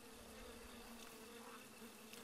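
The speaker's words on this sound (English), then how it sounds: "Hopefully those bees won't care that I'm here." Bees buzz in a steady, dense drone in the Breath of the Wild video game, a continuous insect hum with no talk over it.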